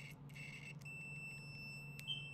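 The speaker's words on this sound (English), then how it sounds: "that buzzer thing will sound, meaning we are experiencing a short circuit on the testing portion." A digital multimeter's continuity buzzer sounds when its test terminals are shorted together: a steady, faint, high electronic beep that holds for more than a second, with no talking.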